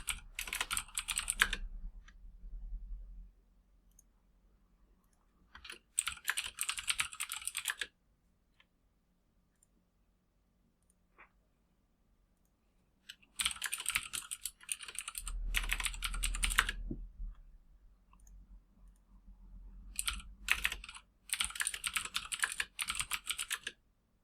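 Someone types function names on a computer keyboard while programming in Python, with quick bursts of close keystrokes separated by long silent pauses and no voices.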